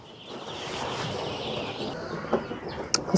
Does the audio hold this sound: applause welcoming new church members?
no